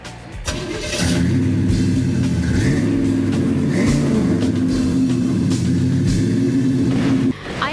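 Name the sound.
1948 Chevy car engine starting and revving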